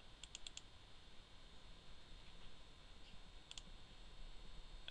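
Quick computer mouse clicks come in two brief clusters, crisp and close over a faint steady hiss in a quiet room.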